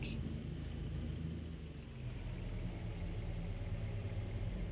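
A low vehicle engine idles steadily in the background in the video game Farming Simulator 22, a soft continuous rumble with a brief high chime at the start.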